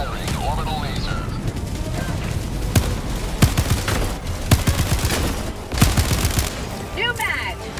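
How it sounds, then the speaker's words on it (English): Orbital laser strike and rapid gunfire in the video game Helldivers 2, a dense continuous roar of shooting punctuated by several sharp, loud impact cracks, with voices talking over the din. "Orbital is down! Firing orbital laser."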